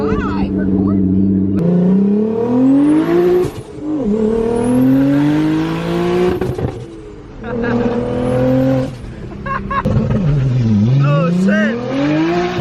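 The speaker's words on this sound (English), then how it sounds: "I love the turbo noises, man. Sounds beautiful." A Corvette accelerates hard with turbo whistle, its engine note climbing and falling through repeated loud revving sweeps, close by, while people talk and exclaim over it.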